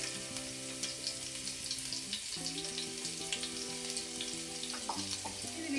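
Garlic sizzling in hot oil for onion rice, a close, continuous crackle with occasional stirring, under a faint background tonal hum and no talk.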